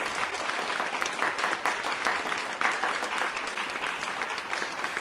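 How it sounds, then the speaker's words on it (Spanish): Applause for nurses rings out as many hands clap in a dense, continuous burst, fairly loud and even throughout. "Un aplauso para ellos, por favor"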